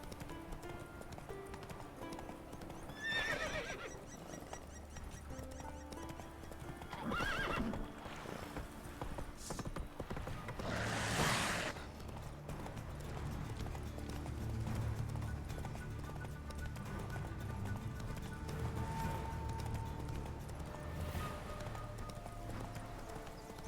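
Roach, Geralt's horse in the video game The Witcher 3, trots along with steady rhythmic hoof clip-clops and several whinnies over a soft ambient game score.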